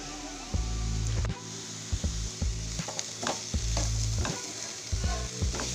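Green beans with grated coconut frying and being stirred in oil, a steady sizzle broken by repeated scraping strokes of a spatula against the pan, close and fairly loud.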